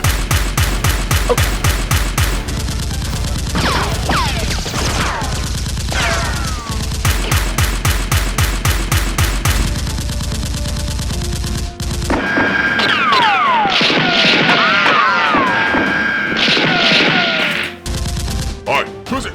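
Nerf guns being shot: rapid rhythmic bursts of loud mechanical firing come in repeated runs, mixed with shouting voices and cartoonish whistling, squealing effects in the middle, all loud and close.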